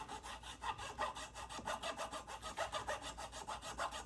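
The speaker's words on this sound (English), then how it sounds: "now we're going to file that out" Filing excess bone off a guitar nut during a repair: steady back-and-forth rasping strokes, about four per second, close and fairly quiet with no talk.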